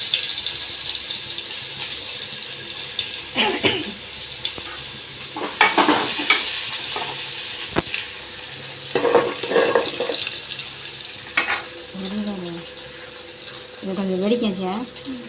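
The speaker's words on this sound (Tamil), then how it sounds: "இப்போது நசுக்கி வச்சுக்கிற வெள்ளைப்பூ வந்து வெள்ளைப்பூ போட்டு தாளிச்சிங்கன்னா கீரை சூப்பராக இருக்கும்" Crushed garlic fries in hot oil in a pan while being stirred, with clattering spoon scrapes and an occasional splash of water, and a person talking over parts of it.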